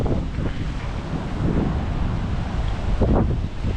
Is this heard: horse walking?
no